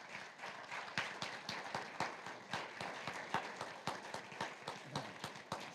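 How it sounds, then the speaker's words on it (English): A board of education meeting audience gives a round of applause for Ray. The clapping is quiet and somewhat distant, a steady patter of many hands with distinct individual claps, lasting several seconds. "let's give Ray a wonderful round for applause for all his work"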